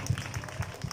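A few people clap at a surprise retirement function held at home, a faint, quick run of evenly spaced handclaps lasting only a moment.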